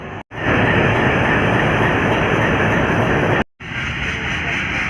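Train departing Jwalapur station toward Haridwar, a loud, close, steady rumble and roar of rolling cars that holds for several seconds, cut by two brief dropouts.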